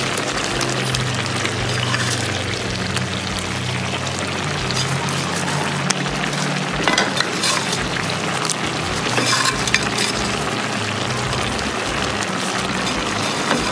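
Fish head and gourd leaves simmer and sizzle in a pan with a steady, loud bubbling hiss, and faint stirring clatter rises briefly above the constant cooking noise.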